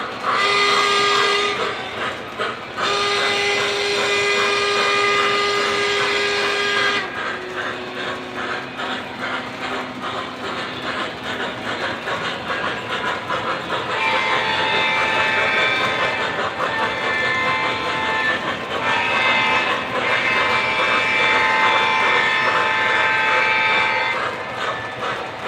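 A C&O Allegheny steam locomotive's chuffing and mechanical clatter run throughout, with long, loud whistle blasts sounding repeatedly over the rhythmic churn of the engine.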